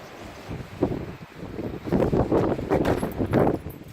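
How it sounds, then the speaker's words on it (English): Strong outdoor wind buffets the microphone in uneven gusts, a low roaring rumble that swells louder in the second half. No voices are heard. "Bit windy."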